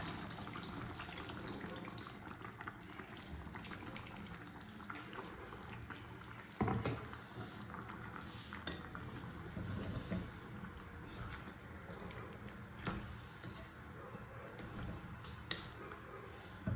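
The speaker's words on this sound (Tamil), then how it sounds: "இப்போ நம்ம புளி கரைச்சி வச்சுக்கலாம்." Tamarind is squeezed and dissolved in water by hand for a dried-fish kulambu, giving close, continuous wet sloshing and squishing with a few sharper splashes and soft voices in the background.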